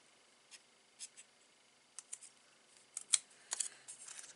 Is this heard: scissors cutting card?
yes